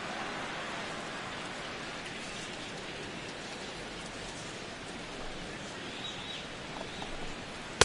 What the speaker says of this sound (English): this rain is definitely complicating matters out there. It's really coming down over the past 5 minutes or so